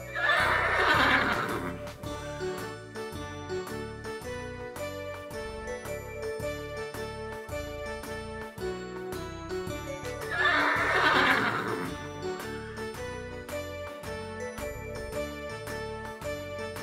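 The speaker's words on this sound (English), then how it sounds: "Horse" A horse whinnies loudly twice, several seconds apart, over steady jingling music with a clip-clop rhythm.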